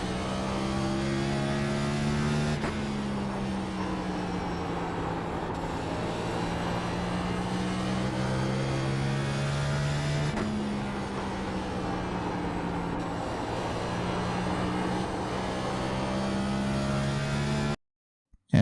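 A NASCAR stock car in iRacing runs a full lap at Bristol with a steady, loud engine drone that holds nearly constant pitch, dipping slightly through the banked turns before cutting off at the end.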